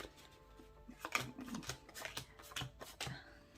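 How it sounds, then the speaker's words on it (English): A tarot card deck is shuffled by hand, close and quiet, with a run of crisp, irregular riffling snaps and flicks of cards throughout. "do take a few moments to hand shuffle in between each one"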